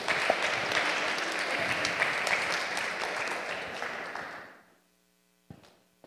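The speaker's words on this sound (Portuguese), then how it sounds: "dá uma salva de palmas aí para Jesus." An audience claps steadily for about four seconds, then the applause fades quickly into near silence, followed by a single brief knock or bump.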